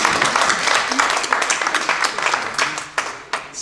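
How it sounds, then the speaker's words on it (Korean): Applause from the assembly at a church ministers' general meeting, a burst of many hands clapping that thins into scattered, distinct claps toward the end, with some voices mixed in. "여러분들 다시 한번 우리 하나님께 영광의 박수를 한번 먼저 드립시다"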